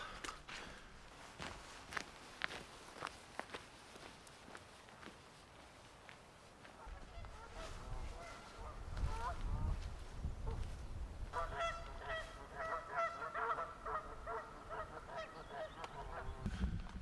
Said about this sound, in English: the angry geese that are guarding the island